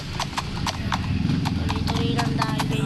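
Horse hooves clip-clop in a video game, a quick uneven series of hollow knocks moving steadily along while people talk over them and a faint whinny comes through.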